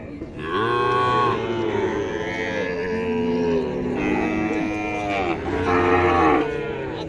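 Loud, drawn-out cattle moos follow one after another, several Sahiwal and Holstein Friesian cows calling close by at a cattle show, with faint background chatter.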